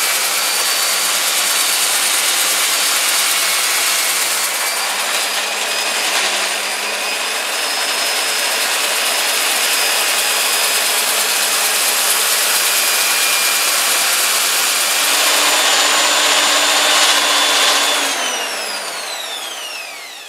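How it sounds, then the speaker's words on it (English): A steady, loud power sander whirs continuously against a wooden bowl, its high grinding hiss holding for most of the time before winding down at the end. "Keep the pressure fairly light and let the tool do the work, the sanding grit do the work."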